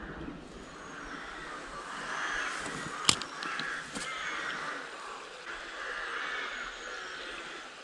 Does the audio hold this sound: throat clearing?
no